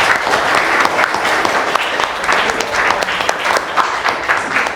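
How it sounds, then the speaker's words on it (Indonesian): A classroom of students applauding for a classmate named Yusuf, a steady burst of fairly loud, close clapping lasting a few seconds. "tepuk tangannya untuk Yusuf."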